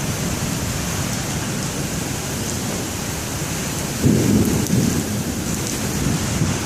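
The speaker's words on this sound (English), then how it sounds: "much rain is coming down" Heavy rain pours down steadily during a severe thunderstorm in a town near a courthouse and parking lot, a dense roaring wash of water with a sudden swell of wind partway through.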